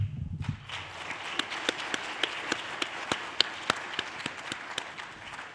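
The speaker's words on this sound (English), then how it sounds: "we need to give everyone that's performed and been a part of this another great round of applause tonight" An audience at a Miss Provo pageant applauds the performers, with steady clapping carrying distinct individual sharp claps over a bright wash of hands, starting just after a brief low rumble.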